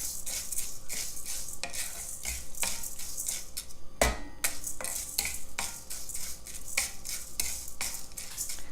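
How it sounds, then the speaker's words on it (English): A spoon scrapes and stirs lentils and beans dry-roasting in a pan for spicy idli podi, steady close scraping and rustling with faint sizzle and occasional metallic clinks, no voices. "Have to keep stirring it, because we don't want the beans to burn"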